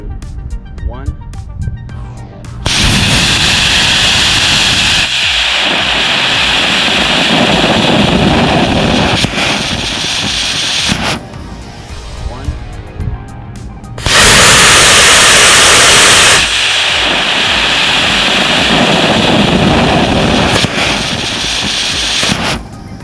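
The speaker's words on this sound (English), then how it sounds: "By firing our rocket motor in line of the vehicle, this should produce the largest thrust available." A model rocket motor static fired on a thrust stand, two long roaring bursts of loud, broad hissing thrust separated by a quieter gap, with talk before the firing.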